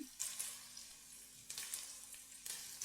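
Onions with curry leaves sauté in a pan for kottu roti, giving a steady soft sizzle with a few louder stirring bursts and no talk.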